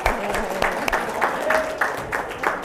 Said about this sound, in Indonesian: Ayo, kita beri aplaus untuk Mary